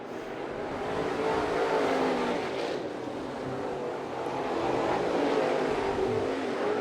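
Crate late model race cars roar around the dirt oval at East Bay Raceway Park, a steady dense engine drone that swells and fades slightly as the pack passes, loud and continuous throughout.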